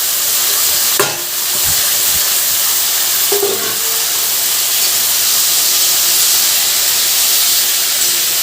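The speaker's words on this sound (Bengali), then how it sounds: "তো এটা এবার তেলের উপরে ভালো করে লাল লাল করে ভেজে নেব" Steady loud sizzling and hissing of boiled potatoes frying with spices in hot oil, with a couple of brief stirring clatters near the start and middle.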